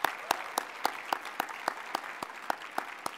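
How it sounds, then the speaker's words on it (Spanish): Sparse, evenly spaced claps ring out in a quiet room, a small audience keeping a slow, steady rhythm of distinct hand claps at moderate volume with no talk over them. "un aplauso totalmente"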